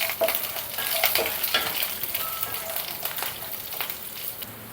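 Chana dal and urad dal frying in oil with mustard seeds in a pan for pulihora, a close, steady crackling sizzle broken by repeated scraping stirs, with no talking.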